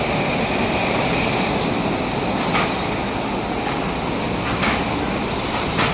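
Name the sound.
train passing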